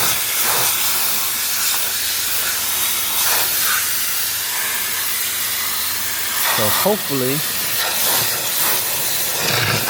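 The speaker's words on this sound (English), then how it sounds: "I've kind of sprayed most of it." Steady, loud hiss of a water spray blasting algae out of a pond sump runs through the whole stretch, with a short burst of talking near the end.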